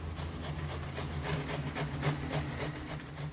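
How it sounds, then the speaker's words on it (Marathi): Peeled bottle gourd rubbed against a grater in quick, even scraping strokes, a rapid rhythmic rasp of about four strokes per second, close and soft over a low background hum, no voices. "आता आपली लौकी छान अशी किसून झालेली आहे"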